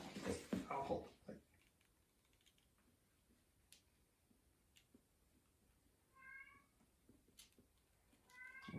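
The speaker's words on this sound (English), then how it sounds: "You can hear him meowing." A cat meows once, faint and short, partway through, after people talk briefly at the start. Scattered small clicks and taps sound around it in a quiet room.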